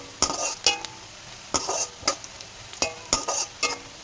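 Onion frying in a pan is stirred with a spatula, giving repeated sharp scraping and clinking strokes at irregular intervals over a low background sizzle.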